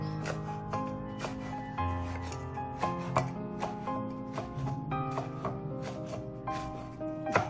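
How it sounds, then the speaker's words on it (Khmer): A knife chops kaffir lime finely on a board in a rapid, steady rhythm of close, crisp strikes, with soft background music continuing underneath. "ឥឡូវហ្នឹង ឆានេះកំពុងតែហាន់ទឹកក្រូចសើចយើងនឹង ហាន់វាជាល្អិតទូជាសរសៃ"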